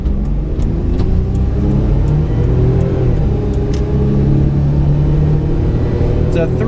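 A turbocharged 1992 Mitsubishi Bravo kei van with a 3-speed automatic, heard from inside while driving through a turn: a steady, loud engine drone with shifting pitch and road rumble, with a person talking over it.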